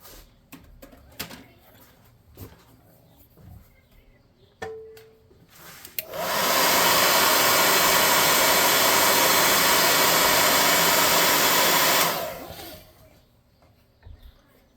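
A hair dryer blasts at close range for about six seconds while drying a freshly painted miniature of a red bull figure for a tabletop RPG, the loud steady broadband roar rising and falling off between quieter handling noises.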